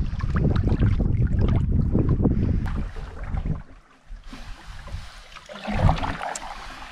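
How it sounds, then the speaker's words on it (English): Wind gusting across a lake on a solo wilderness canoe trip at Jo-Mary Lakes, loud buffeting rumble against the microphone that eases and then swells again, with faint water sounds beneath. "And wind is picking up a little bit."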